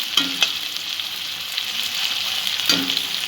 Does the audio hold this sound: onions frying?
yes